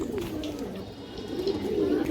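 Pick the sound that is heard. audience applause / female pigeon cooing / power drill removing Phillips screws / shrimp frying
female pigeon cooing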